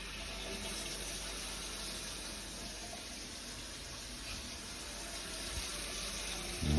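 Water poured by the ladleful into a pan for cacio e pepe, a steady broadband splash and hiss running throughout at moderate level, with a thump near the end.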